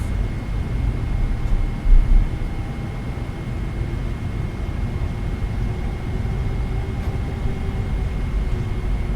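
Simulated Boeing 777 GE90 engines in a flight simulator game, a steady whirring rumble as the throttle is briefly revved during a turn, with a slight surge early on and then an even drone throughout.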